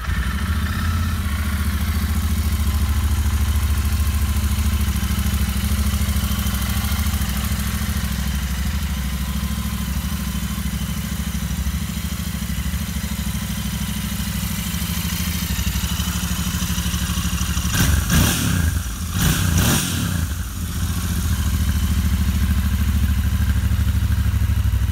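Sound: Royal Enfield Interceptor motorcycle engine with stock exhausts running

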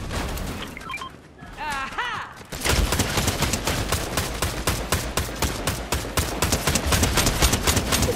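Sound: gunfire from the Fortnite video game

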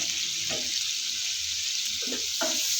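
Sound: fish frying in oil with turmeric

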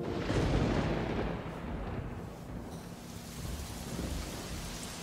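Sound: rain

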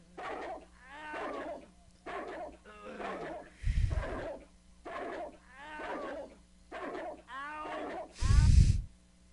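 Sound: dogs barking and whimpering in video game Redneck Rampage

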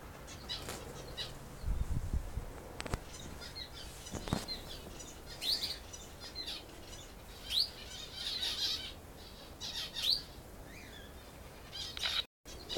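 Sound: canary calling in a park

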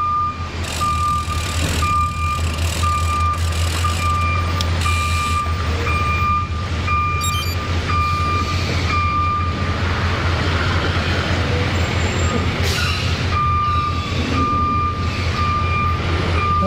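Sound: debris pickup truck reversing with beeps

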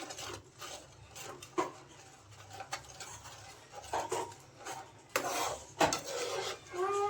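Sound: stirring sugar (shakkar) into besan sheera

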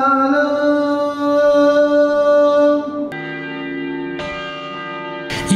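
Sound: church bell ringing

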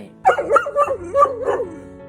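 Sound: dog with masticatory muscle myositis vocalizing

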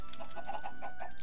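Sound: chickens clucking in Minecraft video game

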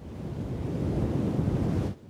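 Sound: big ocean wave crashing in a Peppa Pig cartoon

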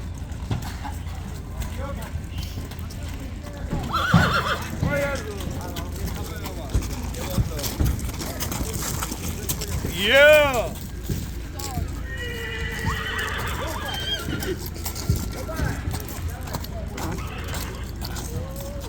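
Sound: horses neighing and hooves clip-clopping, being loaded into trailers

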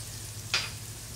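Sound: garlic sizzling in hot oil tempering

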